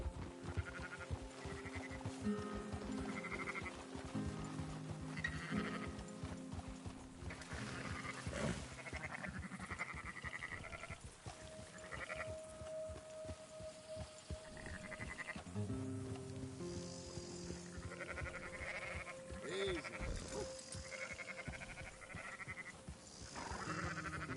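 Sheep in Red Dead Redemption 2 bleat repeatedly, several overlapping calls scattered over a busy background of game ambience and music, with no voices heard.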